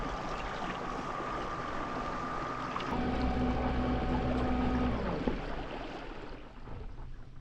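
An Asiwo U1 electric motor drives a 14-foot SUP paddle board along a river at gear 3, giving a steady whirring hum over rushing water that thickens and strengthens around the middle before easing off, with no voices.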